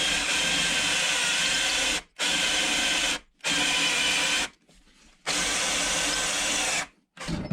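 A battery-powered lithium cordless power tool runs in four loud, steady bursts, with short pauses between them and a weaker, sputtering stretch near the end, as though its charge is running low during work on a Mercury Sable station wagon rocker panel.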